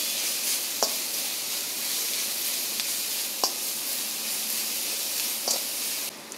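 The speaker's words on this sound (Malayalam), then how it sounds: "ഞാനിത് ഹൈ ഫ്ലെയിമിലിട്ടാണ് വഴറ്റുന്നത്." Onions sauté on a high flame in a pan, giving a steady, moderate sizzling hiss with a few sharp clicks of a utensil against the pan.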